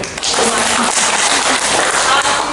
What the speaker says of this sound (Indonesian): Tepuk tangan itu